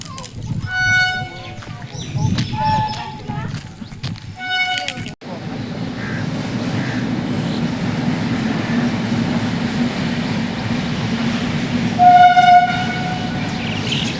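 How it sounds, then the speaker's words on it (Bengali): A train runs along a railway line beside a wetland ringed by hills, a steady low rumble with horn blasts, starting under a voice and then alone. "ত্রিপুরালি বিলের পাশ দিয়েই ট্রেন লাইন আছে।"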